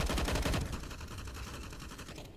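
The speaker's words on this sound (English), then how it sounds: "Ooh, Tech 9 to Temko." Rapid Tec-9 pistol fire in a Counter-Strike match, a quick close burst of sharp repeated shots that fade into softer rattling.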